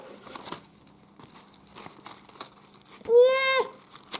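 Soft crinkling and rustling, then a brief squeaky, rising screech as masking tape is pulled away from a surface, close by.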